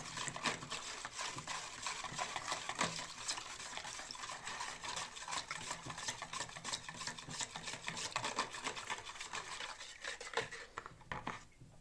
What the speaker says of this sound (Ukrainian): І тепер виливаємо ту всю рідину і розмішуємо тісто